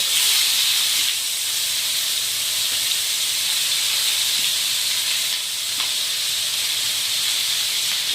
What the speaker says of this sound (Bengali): পেঁয়াজগুলো কিন্তু আমরা একটু ভালো মতো ভেজে নেব